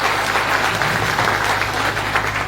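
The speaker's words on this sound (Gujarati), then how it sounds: "ખરેખર આ જોગ માયાવું ને તાળીઓથી જેટલા પણ બિરદાવો એટલા ઓછા છે." An audience at a political speech in Rapar, Kutch, breaking into applause: loud, dense, continuous clapping from a crowd, heard close and unbroken.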